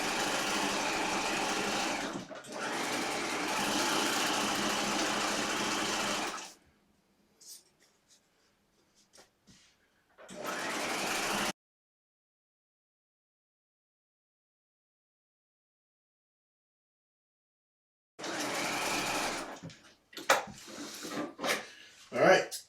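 A sewing machine stay-stitches the half-inch hem of corset muslin pieces in a few steady runs of several seconds each, separated by quiet gaps and handling noises, with no talk.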